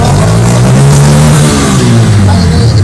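A Bajaj Pulsar N160 fuel-injected motorcycle with an RPM fault revs loudly up close, its engine note holding high and then sagging slightly without climbing to full revs.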